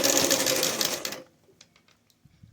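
A sewing machine stitching cloth runs with a loud, fast, steady whirring rattle for just over a second, then stops, leaving only faint clicks and handling noises.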